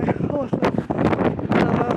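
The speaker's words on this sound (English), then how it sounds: "it's very windy" Gusty wind buffets the microphone with a loud, rumbling roar while a person talks over it.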